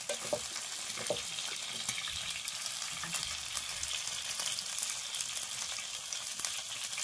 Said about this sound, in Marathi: चिकनसुद्धा एकदम कसा चुरचुर चुरचुर आवाज येतोय चिकनचा